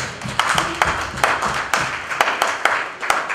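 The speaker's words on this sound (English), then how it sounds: "Clap for Jesus" Church congregation clapping in rhythm at a C & S Church anniversary service in Manchester, UK, a steady beat of sharp claps at about two per second, close and fairly loud, with faint voices underneath.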